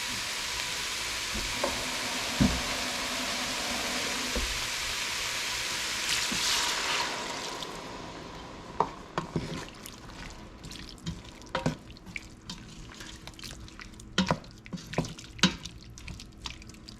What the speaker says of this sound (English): Now I'm going to add water.